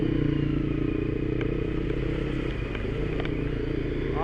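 A supermoto motorcycle pushes through water on an offroad trail, its engine droning steadily up close with splashing, clattering and occasional scraping over the whole stretch.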